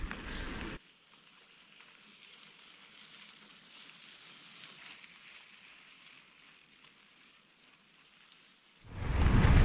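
Steady rain hisses down through a Colorado thunderstorm, a soft continuous wash of sound between louder bursts of noise at the start and end, with no voices.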